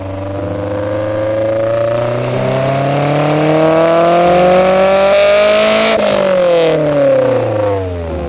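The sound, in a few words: sports car aftermarket exhaust revving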